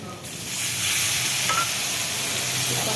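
Fish frying in a pan, seasoned with turmeric and chili powder, gives off a loud, steady hiss of sizzling oil that holds unbroken for the whole stretch, close by and with no voices.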